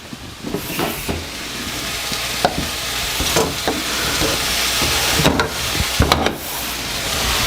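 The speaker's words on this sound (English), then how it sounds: "So I'm going to actually add a little bit of butter into this." Butter and vegetables sizzling in a sauté pan for a braised chicken dish with carrots, mushrooms and tomatoes: a loud, close, continuous sizzle broken by scraping and stirring clatters, with no voices.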